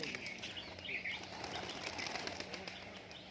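A Murshidabad tumbler pigeon flaps its wings in a steady, fairly faint flutter that runs through the whole moment, with no voices.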